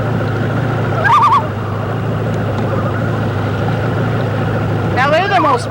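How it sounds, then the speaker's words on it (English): Two quick warbling bird calls sound near a boat, one early and a louder trilling burst near the end, both over the steady low hum of a motor. "Like he's calling his mate on the other side of the boat"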